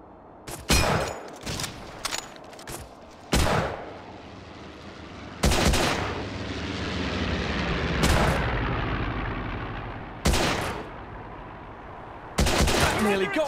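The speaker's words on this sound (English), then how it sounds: "We're under fire." Gunfire in the video game Hidden and Dangerous 2, with loud bursts of automatic fire and single shots spaced across the clip, echoing into a rumbling background between volleys.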